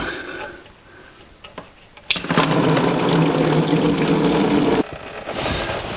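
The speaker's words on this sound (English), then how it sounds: "This is the drain on the driver's side. And we'll let that drain out." Coolant gushing out of the driver's-side radiator drain on a 1949 Chevrolet gasser, a loud, steady splashing pour that starts abruptly, runs for a few seconds and then cuts back to quieter dribbling.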